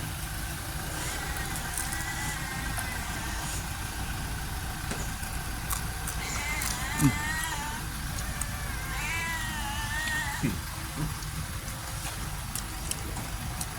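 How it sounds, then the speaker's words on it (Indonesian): Near an outdoor canteen at the Jababeka golf course, a cat meows several times in short, rising cries over the low, steady hum of an idling car engine. "Main kucing guys."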